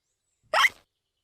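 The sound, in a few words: cartoon pig hiccuping again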